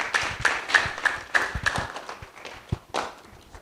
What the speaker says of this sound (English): Can we all give a round of applause?